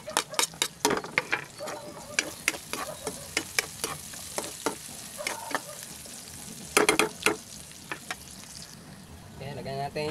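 Garlic and onion sauté in a pan for a crab dish cooked in coconut milk, giving a constant sizzle broken by sharp utensil clicks and stirring scrapes. It is close-up, and a voice speaks briefly near the end.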